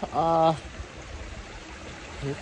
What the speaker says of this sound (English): This is the spring runoff down here coming through.